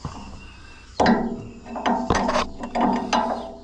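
Offset wrench ratcheting on hydraulic fittings of an Allis-Chalmers 7040 tractor, several sharp clicking bursts in quick succession, close and loud with no talk.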